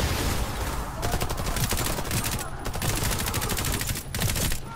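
Rapid bursts of gunfire from the video game Warface, dense automatic shots crackling continuously and loudly through the whole stretch with only brief gaps, no talk over it.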